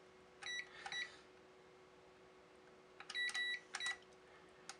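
A UNI-T UT210E clamp meter's range selector wheel turning through its settings, giving two short bursts of close, crisp clicks with bright electronic chirps, the second burst longer with several beeps.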